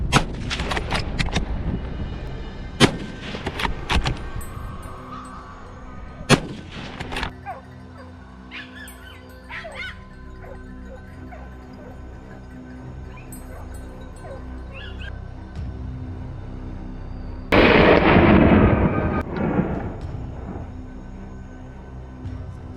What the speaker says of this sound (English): Gunshots echoed through the forest.